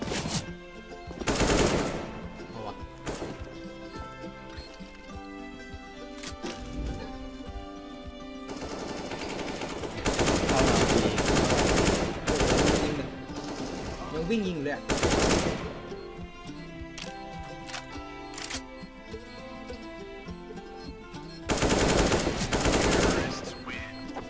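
Rapid automatic gunfire from the video game CS:GO, bursts of shots recurring in loud clusters over game music and effects, with no talk.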